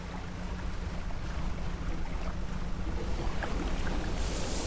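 A fishing boat in the video game Dredge motors across open ocean, a steady loud rush of engine drone, wind and water wash with no break and no talking.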